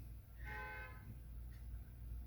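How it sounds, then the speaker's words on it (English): A single car horn honks outside, faint and somewhat distant, lasting about half a second over a steady low background hum with no talking. "There's a car honking outside."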